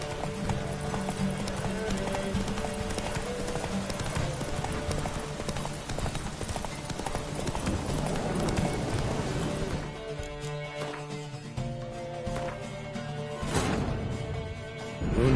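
Roach, a horse in The Witcher 3, gallops with a rapid, steady clip-clop of hooves that runs throughout, loud and close amid game ambience, with a rain-like wash in the background.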